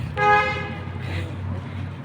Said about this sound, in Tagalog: Busina na.